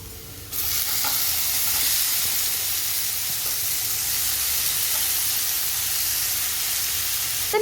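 Mushrooms with ginger and chili fry in a pan with a loud, continuous sizzle that begins abruptly, along with occasional stirring clicks close by and no speech.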